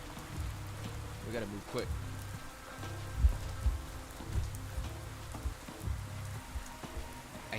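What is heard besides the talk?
rain in the video game Pathologic 3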